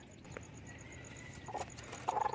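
Faint, high, repeated peeping of newly hatched chicks, steady in the background, with a couple of louder clucking bursts near the end.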